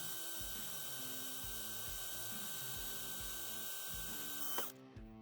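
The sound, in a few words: drilling a pilot hole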